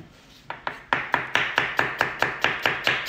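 A knife slices half an onion on a cutting board, giving about a dozen crisp, evenly spaced chopping taps, close and clear with no talk.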